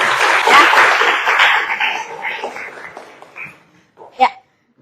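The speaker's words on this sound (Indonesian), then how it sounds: "Oke, tepuk tangan buat semuanya." A class applauds everyone during a teaching practice session, a loud burst of clapping that thins out over a few seconds, followed by a couple of brief faint sounds and near silence.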